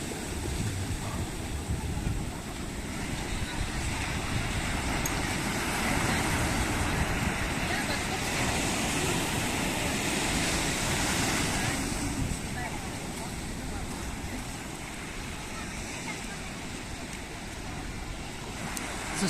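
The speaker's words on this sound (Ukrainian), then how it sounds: "Знову накачує, накочується хвиля." Sea waves roll onto the shore at Puerto de Santiago, Tenerife, during an evening walk: a steady, broad wash of surf that swells and recedes continuously, close and fairly loud, with wind noise mixed in.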